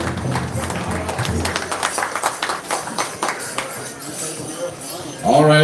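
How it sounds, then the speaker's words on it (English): An audience at the Pasqua First Nation Powwow 2022 claps for the Chief in Council. Scattered, uneven claps sound at moderate loudness under ongoing talk and background bustle. "Let's give them a round of applause."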